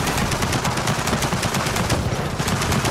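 A turret machine gun in a video game rattles off a relentless rapid stream of loud shots, close and unbroken for the whole stretch, with no voices.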